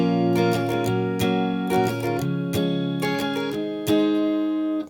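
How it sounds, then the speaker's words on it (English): Acoustic guitar strummed in an upbeat groove for a song, sharp down-and-up strokes ringing full chords in a steady repeating rhythm, close and loud with no voices. "So the strumming pattern we're going to use sounds like this."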